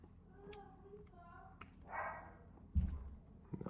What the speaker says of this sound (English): dog's barking, of course.